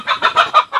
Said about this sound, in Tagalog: Hinahabol lang manok sa aso.